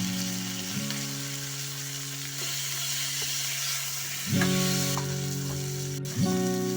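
Chicken pieces sautéing in a pan with onion, salt, turmeric and ground coriander, a continuous close sizzle with occasional stirring scrapes, while a steady tonal hum rises and falls in the background.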